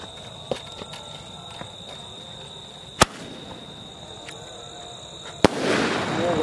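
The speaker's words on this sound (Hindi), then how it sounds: "सो गाइस अब आ रही है स्काई शॉट की, इसका सिल्वर फॉल्स लिखा है इसके ऊपर" A Silver Falls sky shot Diwali firework goes off outdoors: two sharp, loud launch pops a few seconds apart, the second followed by a sustained crackling, hissing burst over steady background noise.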